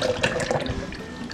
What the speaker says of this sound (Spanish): Vamos a agregar nuestra leche clavel. Leche evaporada.